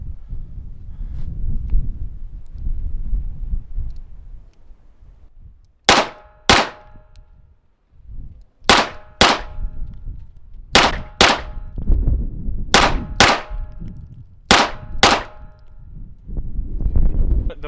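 Handgun shots at target practice, fired with a red dot sight: sharp, loud reports in pairs and small groups with pauses between, over faint outdoor background noise.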